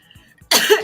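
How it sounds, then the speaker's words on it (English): One sharp, loud cough bursts out suddenly after a quiet moment of faint background sound, close and harsh like a hard throat-clearing hack. "I coughed so hard, y'all."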